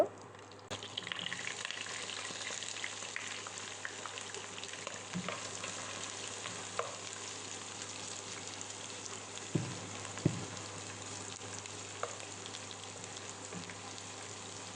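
Sliced onions fry in hot spices in a pan for a beef curry, giving a steady, close sizzle throughout with occasional soft clinks and stirring knocks.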